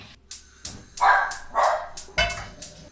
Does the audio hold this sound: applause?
no